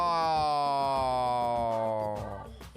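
A wailing police siren in the Roblox video game holds a steady rising tone, loud and close, then fades out toward the end.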